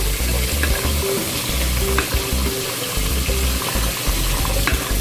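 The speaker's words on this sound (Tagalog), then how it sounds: "Haluin lang natin ang ating munggo." Mung beans for a sautéed monggo with beef ribs sizzling in a pan as they are stirred, a dense, close frying hiss with a low rhythmic hum underneath, no talking.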